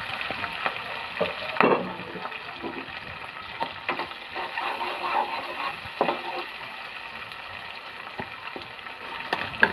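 A blended paste of onion, ginger, garlic and cumin sizzles steadily in a hot pan, with a soft continuous fry and occasional small pops and stirring clicks, no voices over it.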